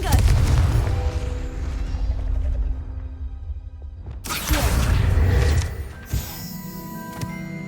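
A Confringo fire spell explosion in the Hogwarts Legacy video game bursts loudly and close, followed by crackling debris and a second sharp impact, with a rumbling low tail beneath.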